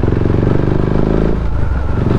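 A Husqvarna Vitpilen 701 motorcycle engine on a first ride throbs loud and close, a deep steady rumble with a slight change in tone partway through.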